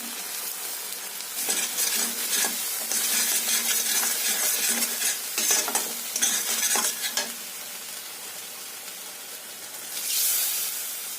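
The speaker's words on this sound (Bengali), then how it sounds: "সামান্য একটু জল দিয়ে ভালো করে কষিয়ে নিতে হবে" Spices sautéed in a pan with a splash of water, giving a steady hiss and sizzle with repeated spoon scrapes and clinks, loudest in the middle stretch, then easing before a final surge of sizzling.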